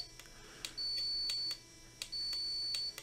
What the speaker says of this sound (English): So if I come down here and push this button, our buzzer goes off.